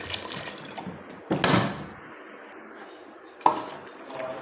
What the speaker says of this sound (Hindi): और अब मैं डालूँगी इसमें पानी